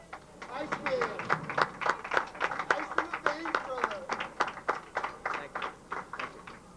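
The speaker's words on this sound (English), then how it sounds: "Nice round of applause for Bob Grande, Sr." A small crowd at a bowling club final claps for winner Bob Grande, Sr., with sparse, distinct claps in an uneven rhythm and voices talking underneath.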